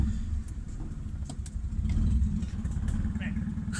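A turbocharged D16 Honda Civic with an unregulated wastegate is driven, its engine rumbling low and steady with slight swells, heard from inside the car.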